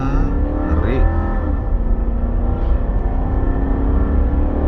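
Toyota Land Cruiser Cygnus engine pulling hard under full-throttle acceleration, a steady loud drone heard from inside the cabin, with a voice speaking briefly over it.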